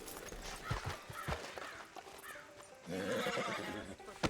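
A horse whinnies loudly nearby in the video game Red Dead Redemption 2, with hoof clops and ambient outdoor noise around it.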